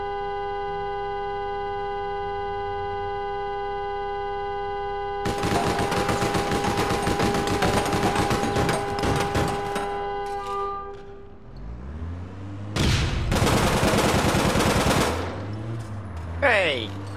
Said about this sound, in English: I stopped shooting the van before I even started getting shot